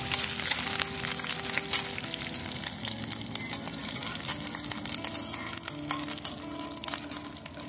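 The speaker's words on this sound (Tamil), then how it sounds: "இந்த பூண்டு பல்லு, தேங்காய், பச்சை மிளகாய் போட்டு நல்லா வதக்கிக்கோங்க" Coconut and green chillies fry in a kadai with a dense, crackling sizzle and continuous stirring scrapes, loud and close throughout.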